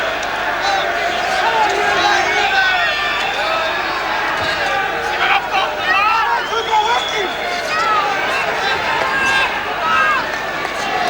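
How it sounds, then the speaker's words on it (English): A boxing arena crowd roars steadily through the final round of a Chris Eubank versus Thurlane Malinga bout, a dense, continuous wash of cheering with a commentator's voice running over it. "the crowd are lifting now"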